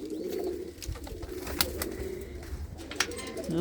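Pigeons coo steadily inside a coop, a low layered burbling from several birds close by, broken by a couple of sharp clicks or taps.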